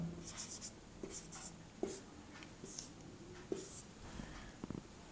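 Numbers are written on a board in a permutations lesson, heard as short scratchy strokes and taps in small groups with pauses between them. The strokes are close and fairly quiet, and no one speaks over them.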